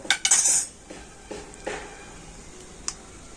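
A metal spoon clinks and scrapes against a pan while stirring raw mango jam with melted sugar, a few sharp knocks at the start, then sparse softer taps, close by and without talk.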